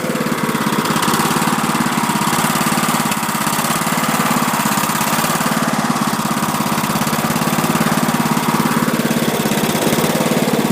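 A 2006 Toro LX 420 Twin Cam riding mower idles roughly, its engine running loud and close with a steady uneven throb that continues without a break and without any talk.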